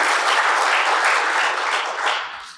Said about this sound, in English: that, I think, is worthy of a round of applause in and of itself.